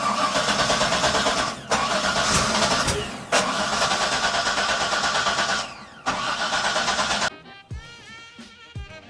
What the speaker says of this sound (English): For some reason it just keeps cranking.